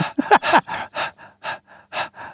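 A voice mimics a panting dog with quick, rhythmic breathy huffs, about a dozen short puffs in a steady pattern, close and fairly loud.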